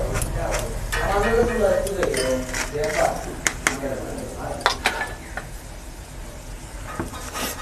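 Fried peanuts are lifted out of hot oil with a metal strainer in a home kitchen. Close metallic scrapes and sharp clinks ring over a low oil bubbling, with scattered taps near the end.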